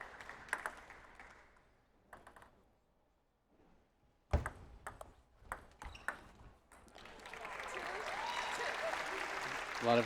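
Home crowd in Rockford, Illinois applauding at a women's team table tennis match, with ball pings and sharp knocks early, then sustained clapping swelling steadily through the second half.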